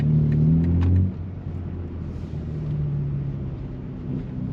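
A BMW M3 xDrive G80 drives through snow in all-wheel drive, its engine rumbling loudly with a brief rev at the start, then settling into a steady, close cabin drone.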